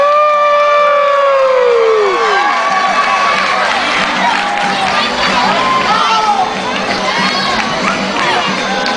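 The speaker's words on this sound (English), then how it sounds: "Look at the crowds they bring in for the chicken dance." Dense festival crowd noise at the Our Lady of the Lake Festival during the chicken dance, loud and continuous, with overlapping shouts, children's voices and cheering close by alongside steady chatter.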